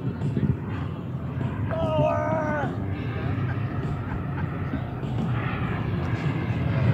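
Avro Vulcan bomber model aircraft flying a trim pass at about two-thirds throttle, a steady engine roar sustained throughout, with a brief tonal whine rising partway through and people talking underneath.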